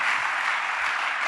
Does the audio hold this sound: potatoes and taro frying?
no